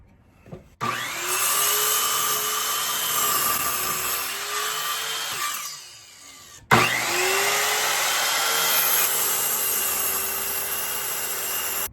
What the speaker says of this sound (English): you saw all the dust and debris flying from the miter saw when we were cutting that piece of wood